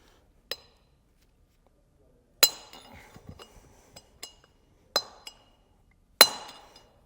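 Hammer blows drive out a pressed-in hub bearing race on a utility trailer, giving sharp metallic clinks: a single strike, then a cluster with rattling, and several more separated hits, close and loud.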